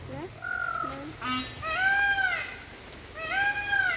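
A bird calls in a bamboo maze at Eden Nature Park in Davao, giving a few clear, rising and falling whistled cries close by, with short pauses between them over quiet background hiss.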